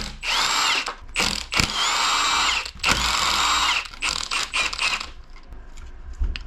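A power tool spins out oil pan bolts on a damaged Mercedes M113K AMG engine, several loud whirring bursts with short pauses between them, then quieter ratcheting clicks.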